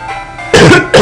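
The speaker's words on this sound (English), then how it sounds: "excuse my voice and my coughing." A person with a cold gives two short, harsh coughs close to the microphone, one right after the other, loud against a quiet background.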